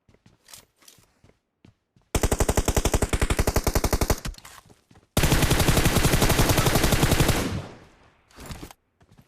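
Automatic gunfire in a PUBG Mobile match, used to shoot through a door: loud rapid bursts of fire, a long continuous volley after a shorter rattling one, with scattered footsteps and small clicks around them.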